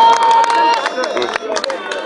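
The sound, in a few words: crowd applauding to welcome kabaddi team captain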